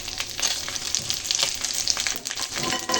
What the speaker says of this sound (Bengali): এই যে শুকনো লঙ্কা জিরে আর এই তেজপাতা ফোড়নে দিয়ে দিলাম।